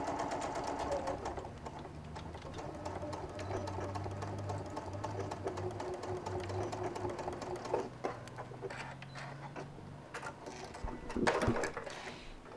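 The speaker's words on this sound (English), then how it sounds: "Back tacking and then just sewing it closed." A sewing machine runs continuously as it back tacks and then sews a stuffed frog toy closed, a steady mechanical whir with short pauses and changes in speed near the end.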